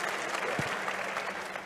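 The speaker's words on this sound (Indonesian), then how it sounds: "tepuk tangan dulu semuanya" Audience applause fills the room at a community gathering, a steady wash of clapping from a crowd that holds at an even level throughout, with a faint voice briefly audible underneath.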